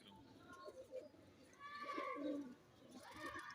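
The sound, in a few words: pigeons cooing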